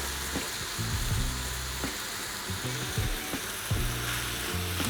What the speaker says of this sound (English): So my oil's pretty hot, and I'm just going to start gently placing this in. That sizzle's a good sign